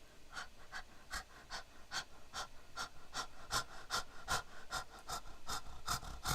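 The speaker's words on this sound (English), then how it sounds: "and then panting." Rapid, rhythmic panting from a Great Dane-sized dog, quick breaths in and out repeating steadily throughout, close and fairly loud with no talking.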